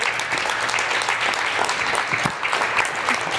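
A church congregation claps in steady, dense applause, a continuous close patter of many hands throughout with no pause.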